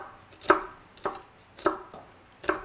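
A knife chops vegetables on a cutting board while making summer kimchi, four sharp, separate strikes at an unhurried pace, close and clear with no talking.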